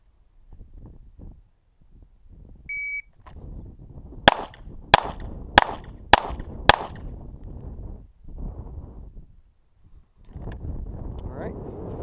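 A SIG P320 pistol fires five sharp shots strong hand only, evenly spaced about half a second apart and loud against light wind noise, with a beep before and talk before and after.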